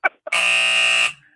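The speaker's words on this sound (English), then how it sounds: "They moved the buzzer on me." A loud electronic studio buzzer on a live radio broadcast blares for nearly a second, harsh and steady, right after two short blips of talk.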